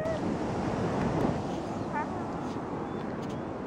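Ocean waves at Ocean City, Maryland: a broad, continuous wash of surf mixed with gusty wind rumble on the microphone, loud and steady, with a faint high cry briefly audible midway.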